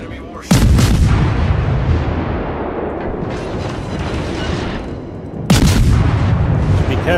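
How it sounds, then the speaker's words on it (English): Two heavy, booming salvos from warship guns in a naval video game, firing on an enemy destroyer, crack loudly several seconds apart, each trailing into a long rumbling decay. "Concentrate fire on the enemy warship."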